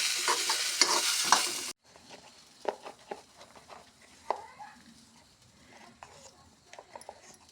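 Cabbage stir-fries in a pan with soft scraping stirs and a light sizzle, and a few faint voice sounds around them. A loud burst of hiss at the start cuts off abruptly, then quieter intermittent stirring strokes follow.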